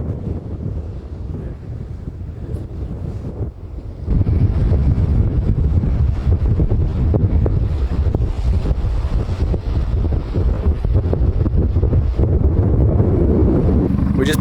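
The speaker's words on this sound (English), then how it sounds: "it's windy." Strong coastal wind roars over the microphone at the Skipjack Point boardwalk lookout, growing heavier partway through into a loud, continuous buffeting rumble.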